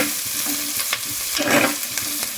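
Onions and fenugreek leaves frying in a pan, with a steady close sizzle and scraping stir strokes throughout, no voices.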